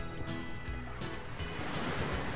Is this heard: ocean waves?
yes